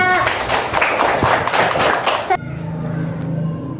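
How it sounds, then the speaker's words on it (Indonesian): A classroom of students claps for a classmate, a dense burst of applause mixed with chatter that cuts off sharply partway through, leaving quieter room noise and voices. "Tepuk tangan buat Bara."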